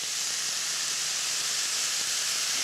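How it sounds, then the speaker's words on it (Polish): Smoked bacon sizzles in a frying pan, a dense, constant hiss that stays loud and even throughout. "Krótko go przesmażam i dodaję jeszcze kiełbasę."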